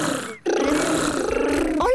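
Cartoon children imitating tigers in a Peppa Pig episode produce a loud, sustained throaty rolling growl-purr, briefly broken by a short pause, then continuing steadily close up.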